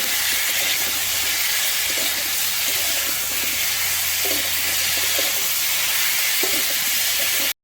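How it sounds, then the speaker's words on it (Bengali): Cauliflower frying in a pan with salt and turmeric gives a steady, loud, continuous hiss and sizzle, with faint scrapes and stirring knocks now and then, no voices. "যে আমি ফুলকপিটা ভালো করে ভেজে নেব"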